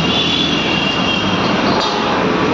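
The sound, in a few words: metro train running on elevated track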